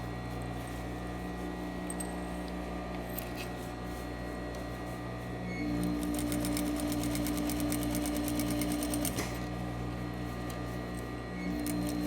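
A sewing machine stitches a skirt waistband, running as a steady, fast, close mechanical whir over a constant motor hum, speeding up partway through.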